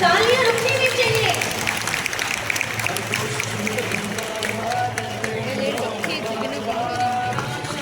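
An audience applauds steadily at a felicitation program in Berhampur, a dense, continuous wash of clapping with crowd noise mixed in that stays fairly loud throughout.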